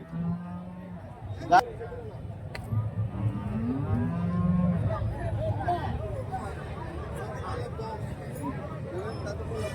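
A dairy cow at an Andhra Pradesh cattle market gives a long low moo early on, followed by steady crowd chatter and nearby voices talking over the livestock.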